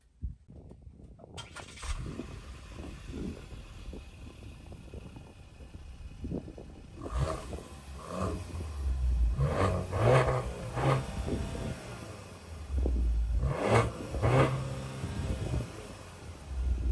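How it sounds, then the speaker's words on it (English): A Cadillac car engine revs up repeatedly, the exhaust roaring in rising bursts with short pauses between, fairly close and growing louder. "We're literally about to do this exhaust note right here."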